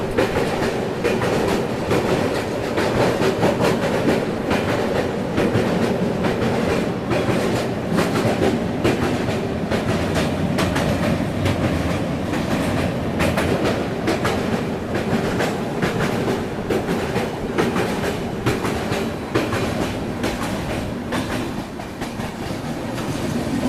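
The Ranchi Rajdhani Express runs along the rails in India, its carriages giving a steady, loud rumble with a continuous rhythmic clickety-clack from the wheels throughout, and no voices.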